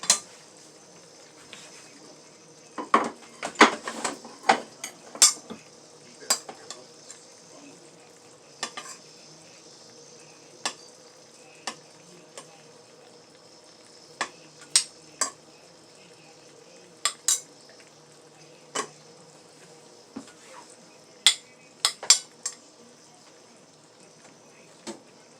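Rice pilaf scooped from a pot with a metal utensil, heard as scattered sharp clinks and scrapes against the pot, irregular and close, over a quiet background.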